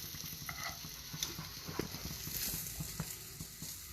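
Food frying in a pan during a live cooking session for a paneer starter, a steady faint sizzle under light stirring and scraping clicks, continuous for the whole stretch with no talk.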